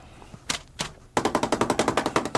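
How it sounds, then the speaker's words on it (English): A paint brush is washed, then beaten dry against a surface. A couple of separate thwacks come first, then a fast, even run of about a dozen loud, close slaps, with no talking. "Let's wash the old brush. I just like to wash the brush."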